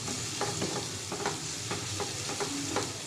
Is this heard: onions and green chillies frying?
yes